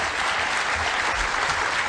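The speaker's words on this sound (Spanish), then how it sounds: "Un gran aplauso para sus líderes" An audience gives a big round of applause for its leaders at a live event, with thick, continuous clapping at even loudness for about two seconds.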